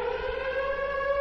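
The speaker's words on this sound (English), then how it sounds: "The air raid siren." An air raid siren wails in a steady, sustained tone, loud and close, with no other sounds.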